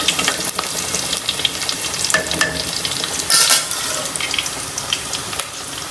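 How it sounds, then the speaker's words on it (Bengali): Tangra fish cooking with eggplant in a pan, a close, fairly loud sizzle with scattered scrapes and clinks of a utensil stirring, plus a brief sharper burst midway; no one speaks. "ট্যাংরা মাছ বেগুন দিয়ে রান্না করতেছি"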